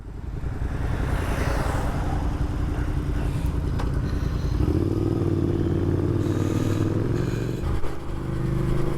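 A Triumph Scrambler motorcycle rides along a country B road, its engine a steady loud drone that rises in pitch as it accelerates and shifts, heard without talk.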